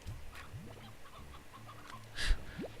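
A hen clucks in the video game Slime Rancher, giving soft, short clucks and chirps at a low level. A louder burst near the end rises into a quick squawk, and no one talks.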